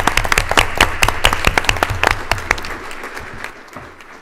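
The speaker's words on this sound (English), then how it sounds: "I think they deserve a round of applause." An audience at a school board of education meeting claps for the district's bus drivers, with distinct, fairly close hand claps in a brisk irregular patter that gradually thins and softens toward the end.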